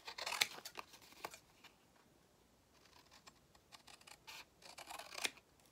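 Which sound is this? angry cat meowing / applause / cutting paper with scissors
cutting paper with scissors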